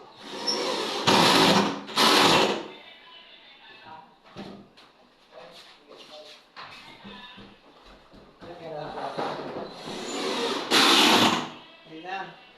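A power drill drives screws during modular furniture assembly, with loud whirring bursts near the start and again near the end. People talk throughout between the bursts.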